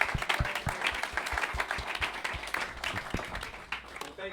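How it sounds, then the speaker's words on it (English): A roomful of people gives steady applause at the close of an orchid presentation, a dense continuous patter of many hands at moderate distance, with faint voices mixed in. "Another round of applause."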